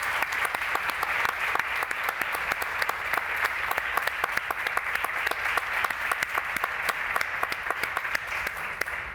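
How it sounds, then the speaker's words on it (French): A conference audience applauds the speakers at the close of a panel on access to information, a dense, steady burst of many hands clapping throughout. "Vous pouvez les applaudir."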